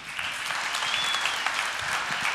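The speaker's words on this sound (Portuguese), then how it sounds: "Uma salva de palmas para esses caras aqui." An audience claps at a youth leadership event, a dense, steady applause lasting a couple of seconds with no voices over it.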